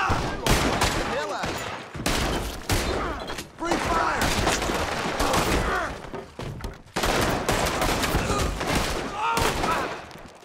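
Gunfire from a US Army versus Lemoyne Raiders NPC battle in Red Dead Redemption 2: loud, near-continuous volleys of rifle and pistol shots, with brief lulls and shouting voices mixed in.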